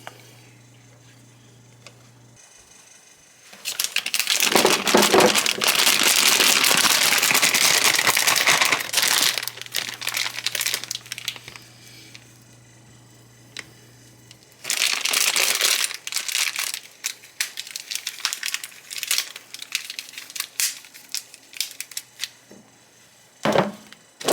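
Melted white chocolate pours into a plastic piping bag set in a glass, giving long bursts of crinkling, rustling plastic close up, alternating with quieter gaps and a faint steady hum.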